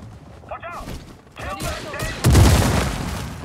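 Blaster fire in Star Wars Jedi Survivor rings out as several quick, zippy shots, followed by a heavier burst and a boom near the end, with voices talking over it.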